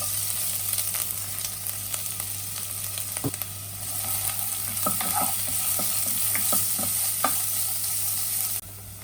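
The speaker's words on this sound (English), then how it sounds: "Put sesame oil in a pan. Add carrots and fry." Carrots fry in sesame oil in a pan with a steady close sizzle, joined by scattered light clicks and scrapes from stirring; no talking.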